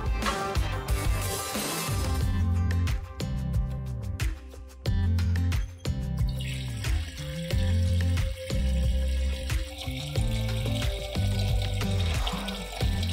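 A continuous rush of water pouring into a metal stock pot over chicken and pork stock ingredients, with some thumps and clattering, and slight changes in tone as it fills.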